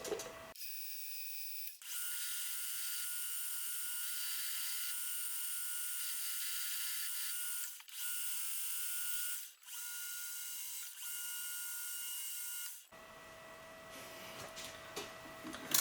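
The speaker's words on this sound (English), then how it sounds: "We're gonna drill and tap for a 1/4-20 at the end." Drilling a tap hole for a 1/4-20 thread in the end of a shell mill arbor, a steady high-pitched whine of the drill running continuously for about eleven seconds with a few brief dips, alone and without talk.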